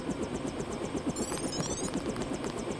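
Helicopter in the video game Cyberpunk 2077, a steady rhythmic rotor chop with a low engine drone, moderately close and continuous, with brief electronic beeps partway through.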